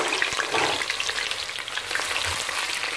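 Chopped onions hit hot palm oil for Nigerian egusi soup, giving a steady, loud, dense sizzle that fills the whole stretch with a few crackles and stirring scrapes, and no voices.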